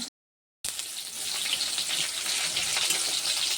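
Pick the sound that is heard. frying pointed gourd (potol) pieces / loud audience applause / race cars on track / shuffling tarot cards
frying pointed gourd (potol) pieces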